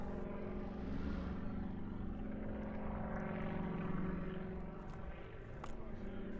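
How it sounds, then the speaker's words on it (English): A Sukhoi Su-26M aerobatic propeller plane drones steadily overhead at an airshow in Portugal, its engine roar rising and easing slightly as it passes at moderate distance. "The aircraft is a Sukhoi Su-26M, a former Soviet aeroplane which made its first flight in 1984."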